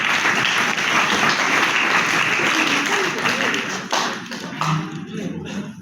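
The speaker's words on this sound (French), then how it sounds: "je vous prie de m'accompagner dans cette félicitations en les applaudissant une fois encore" Sustained applause from an audience at a book signing ceremony for the Ganndal Afrik publishing house, a dense, steady wash of many hands clapping that thins slightly toward the end, with faint voices mixed in.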